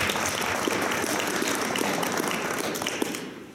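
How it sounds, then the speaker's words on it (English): Audience applause at a celebration event in Nelspruit, a dense even wash of clapping from a crowd, sustained and loud, then thinning slightly at the end. "Can we give ourselves a round of applause?"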